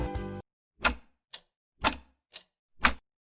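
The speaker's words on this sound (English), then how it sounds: "That's a clock!" A clock ticks slowly and sharply, about one tick per half second, alternating louder and softer clicks, heard alone at close range.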